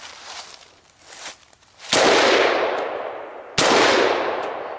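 Two sharp, loud gunshots on an outdoor shooting course, each followed by a long rolling echo that fades slowly, with faint rustling and movement before the first shot and no talk.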